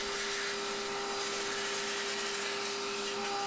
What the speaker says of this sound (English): we have to suck up all of the little tape bits in the card cage